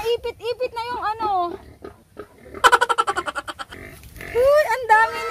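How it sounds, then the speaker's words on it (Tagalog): A native pig on a farm gives a quick run of rhythmic grunts and oinks, close and fairly loud, while people talk over and around it. "Native na baboy."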